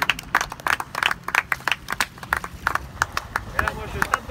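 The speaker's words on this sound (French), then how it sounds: "On peut les applaudir." Scattered clapping from an audience at an orca show at Marineland, sharp separate claps in an uneven rhythm, fairly faint, with voices talking over them.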